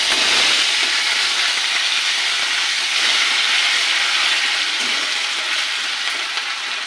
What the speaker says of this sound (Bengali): এবার দিয়ে দেবো জিরে ফোড়ন। আর দেবো গ্রেট করে রাখা আদা।